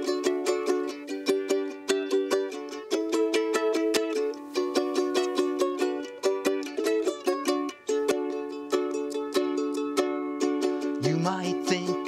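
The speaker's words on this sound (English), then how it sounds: "The ukulele is like a little guitar," A ukulele strummed and picked in a bright, steady rhythm, with repeated plucked chords ringing on for about twelve seconds with no talking, and a brief rising vocal-like note near the end.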